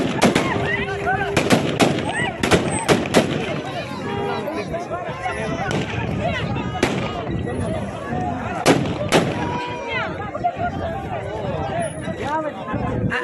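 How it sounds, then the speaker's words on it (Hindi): Taliban gunfire aimed at people fleeing in Afghanistan: dense, rapid bursts of shots and booming reports throughout, with a crowd's shouting and commotion underneath. "तालिबान किस तरह से गोलियां बरसा रहा है"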